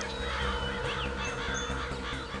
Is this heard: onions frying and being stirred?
no